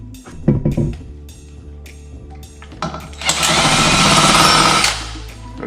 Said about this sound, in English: We're going to start with our small size drill bit.